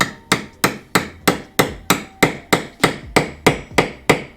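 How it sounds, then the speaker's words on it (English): A seal being tapped into a Yamaha YZ426F motorcycle engine case, with thirteen evenly spaced, sharp metallic hammer taps at a steady rhythm, close and loud, no talking. "Carefully tap it down."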